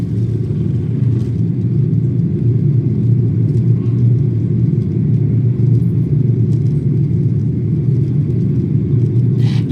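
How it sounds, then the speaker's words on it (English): Loud, steady low engine rumble from inside an airplane cabin as the landing gear retracts, a constant droning roar with faint mechanical clunks over it. "We'll listen to hear if you can hear the landing gear go up."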